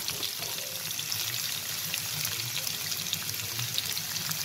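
Shrimp, tofu and vegetables hit a hot stir-fry pan all at once, giving a steady, fairly quiet hiss and crackle of frying that holds evenly throughout with no talk over it.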